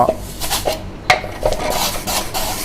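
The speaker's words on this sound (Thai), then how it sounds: "ขัดคราบน้ำมันออกอีกรอบนะครับ" Rough metallic scraping and scrubbing of oil residue on a Korean barbecue grill pan, in short uneven strokes with a sharp clank partway through, close and fairly loud.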